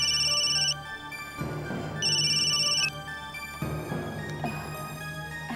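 A phone ringtone sounds in repeated bursts, a bright tonal melody coming back several times with brief pauses between rings.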